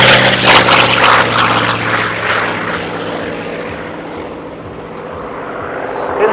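A Hawker Sea Fury T20 propeller aircraft at the Dunsfold Wings and Wheels airshow roars loudly overhead, its engine drone fading slightly as it passes, with talk faintly beneath.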